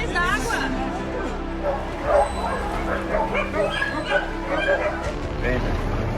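A small dog rescued from flood water in Rio Grande do Sul, Brazil, yips, whimpers and barks close by over several seconds while people talk and murmur around it.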